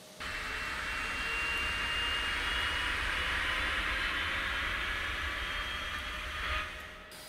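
A heavy jet airliner takes off in the air traffic control game Tower Simulator 3, with a loud, sustained engine roar and whine rising then easing slightly, heard alone without speech.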